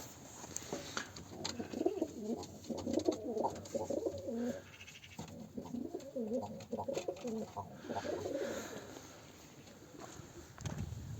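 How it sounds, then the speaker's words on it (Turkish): Pigeons cooing inside a loft, soft repeated throaty coos in overlapping bouts, fairly close and quiet, with a few faint chirps and no talking. "Kümesin içerisindeki kuşlara da bakalım."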